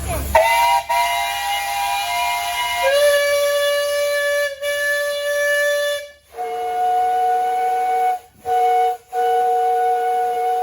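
A Minneapolis 20-horse steam traction engine at an Illinois steam and threshing show sounds its whistle in several long, loud, steady blasts with short breaks between them, the pitch stepping down partway through, over a faint hiss.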